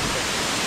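A waterfall roars in a steady, dense broadband rush at close range, loud and continuous with no pauses or other sounds.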